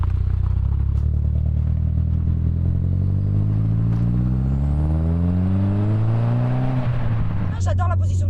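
An Audi TT pulls away and accelerates, its engine note climbing through the gears in loud, close, smooth rising sweeps, with a brief clatter near the end.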